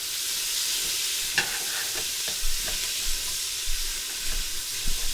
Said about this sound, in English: We just want to keep working our onions until we start getting a really nice brown color on them